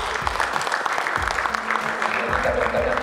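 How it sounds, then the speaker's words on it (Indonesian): Audience applause at a press event about Gojek and Traveloka sponsoring the Indonesian PSSI Liga 1, a steady patter of many hands clapping throughout, moderately loud with no talk over it. "Tepuk tangan dong."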